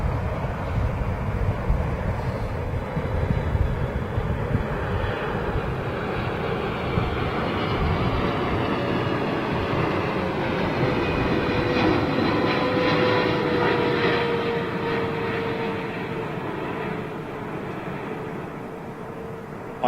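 Steady roar of a Volga-Dnepr Boeing 777 at Heathrow airport, a loud continuous engine rumble with a slowly shifting whine holding throughout, no talk.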